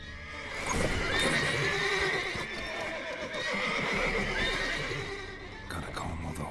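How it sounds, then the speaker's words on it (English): Several horses whinny and neigh near guards in The Witcher 3 video game, loud and close, with hooves clopping beneath the calls and a brief voice near the end. "Gotta calm all the horses before they wake the guards."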